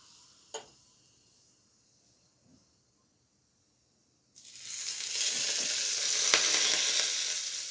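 Red pepper flakes hit heated olive oil and set off a sudden loud, steady sizzle partway through, after a quiet stretch with a few faint knocks.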